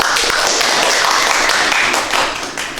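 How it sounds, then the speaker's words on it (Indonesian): Applause from an audience at an Indonesian university teaching-certification session, a dense, steady patter of many hands clapping at close range, easing off slightly toward the end. "Tepuk tangan untuk Manila"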